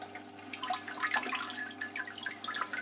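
Water trickles slowly from a homemade all-grain beer-making machine, a soft, continuous splashing flow close by with small drip-like spatters.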